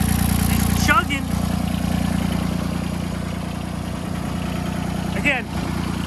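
A turbocharged John Deere 330 diesel mower engine idles with a steady, close chugging rumble, broken by a couple of brief high chirps.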